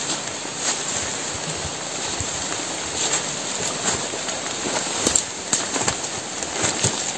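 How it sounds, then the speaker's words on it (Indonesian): Steady rain patters continuously outdoors on a hillside, a dense even hiss with scattered louder drops, alone without talk. "Hujan."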